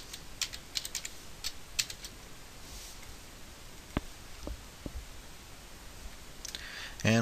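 Computer keyboard keys clicking in short quick clusters, then a few isolated taps, faint and close in a quiet room, with a voice beginning right at the end.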